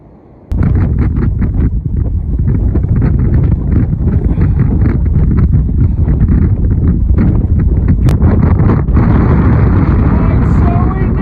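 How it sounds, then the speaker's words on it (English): Strong, roaring wind buffets the microphone on an exposed mountain top in North Wales, a loud continuous rumble with gusty thumps that starts abruptly and fills the whole stretch. "Oh yeah, it's incredibly windy though."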